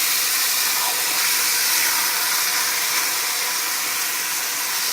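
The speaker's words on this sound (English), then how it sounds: "I want my chicken to actually almost start frying in the bottom of the pan" Chicken fries in a hot pan with kale and spinach for homemade chicken noodle soup, giving a steady, loud, continuous sizzle with no talking.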